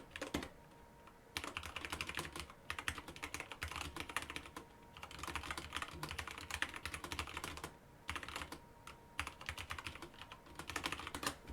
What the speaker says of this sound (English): It's actually a really nice keyboard to type on.